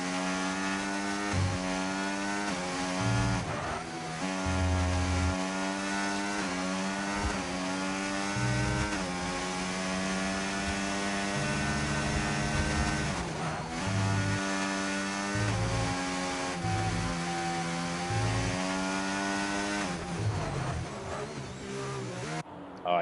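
A race car lapping the CRL Qatar circuit, its engine droning steadily with rising and falling pitch through gear changes and corners, loud and continuous for the whole stretch with no talk over it.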